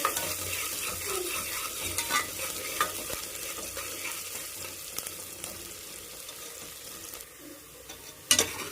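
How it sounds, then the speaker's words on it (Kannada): Onions fry in hot oil in a pan, a close, continuous crackling sizzle with frequent scraping stirs of a spoon against the pan and a sharp clank near the end, no talking. "ಈಗ ಈರುಳ್ಳಿ ಹಾಕೋತಾ ಇದ್ದೀನಿ ಈರುಳ್ಳಿ ಹಾಕೊಂಡು ಚೆನ್ನಾಗಿ ಫ್ರೈ ಮಾಡ್ಕೊಬೇಕು"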